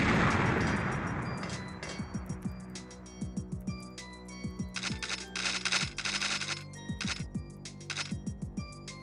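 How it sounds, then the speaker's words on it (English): A rapid string of explosions and gunfire bursts from the N64 game Goldeneye 007, starting with a loud boom then repeated sharp blasts with ringing tails, densely layered over several seconds. "I'll just let these explosions play out."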